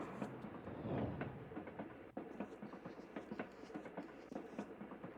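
Rhythmic clickety-clack of a train rolling along rails in a video game, steady wheel clatter with a soft rumble, a brief dip partway through, and faint voices underneath.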